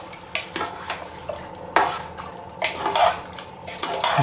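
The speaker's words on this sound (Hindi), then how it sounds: "अब इसे हम अच्छे से मिक्स कर देते हैं" Mutton curry being stirred in a pot after water has been added, with scraping and clinking of a spoon against the pot in irregular strokes over a soft bubbling sizzle, close and moderately loud, no talking.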